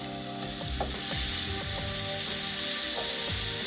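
Steak sizzles steadily in a hot pan, a constant broadband frying hiss with faint clinks and scrapes as the meat is handled, no talking over it.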